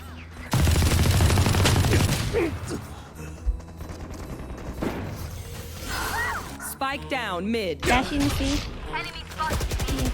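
Gunfire from the video game Valorant, dense bursts of shots and impacts starting abruptly and continuing loudly through the clip, with game sound effects and people talking over it.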